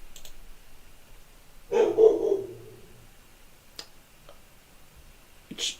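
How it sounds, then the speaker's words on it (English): Indoors, a dog lets out one clear bark partway through, surrounded by near silence and a few faint ticks and clicks. "And now my dog wants to flap his gums."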